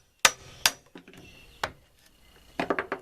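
Hammer blows drive a chisel into wood to cut a notch, giving a few sharp, close knocks spaced irregularly, with a final quick cluster of taps near the end and quiet gaps between.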